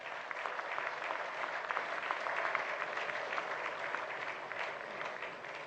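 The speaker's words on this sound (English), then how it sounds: "Let's give all those who have served this nation and still serving a big round of applause" A large audience applauds steadily at a formal security ceremony attended by former presidents and military chiefs, honouring those who have served and still serve the nation; dense, sustained clapping fills the room without pause.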